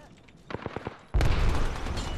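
Automatic gunfire in the video game Apex Legends comes in as a sudden, loud, sustained burst that drowns out a few earlier short sounds.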